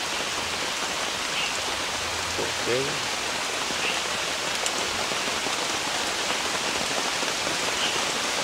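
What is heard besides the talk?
heavy rain outside while camping by a river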